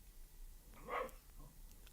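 A single dog bark, faint and distant, heard once in the middle against a quiet background.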